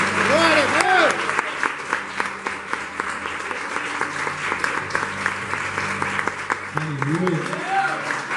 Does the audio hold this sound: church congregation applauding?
yes